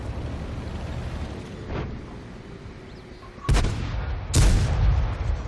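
Two loud, booming cannon shots from a tank in the World of Tanks video game, each a sharp blast with a rumbling tail, fired about a second apart after a quieter stretch of low battle rumble and a faint earlier shot.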